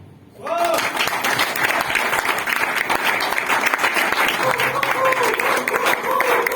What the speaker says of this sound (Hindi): आपको जब ताली आती तो बजाना है, बाद में क्यों बजाते हो?